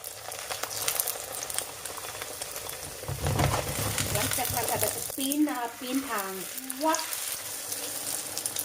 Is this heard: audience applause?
no